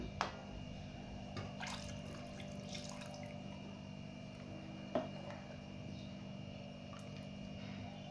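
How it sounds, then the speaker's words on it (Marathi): Water is poured into an eggplant masala curry simmering in a pan, a soft, steady trickle and splash with a few brief sharp clinks close by. "थोडं पाणी टाकून घ्यायचंय अजून"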